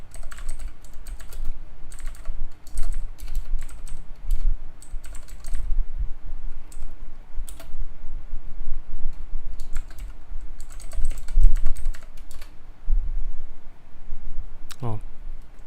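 Rapid clicking of keys on a computer keyboard, irregular bursts of typing up close with brief pauses between.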